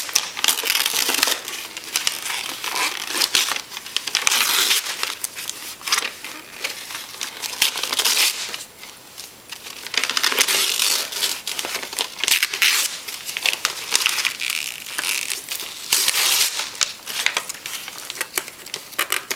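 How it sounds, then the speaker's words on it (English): Birthday present wrapping paper being ripped and crumpled by hand, loud close tearing and crinkling in repeated bursts with brief pauses throughout. "Can you rip the paper?"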